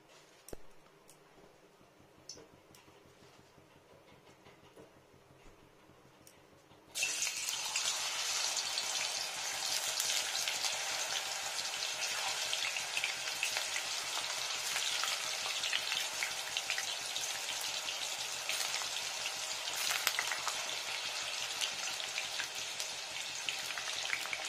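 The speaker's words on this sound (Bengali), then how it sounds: "এবার বানাবো বানানা চিপস টাইপ, তেলটা দিয়ে নিলাম।" Banana chip slices hit hot oil and break into a loud, dense, crackling sizzle that continues steadily after a few quiet clinks and a near-silent start.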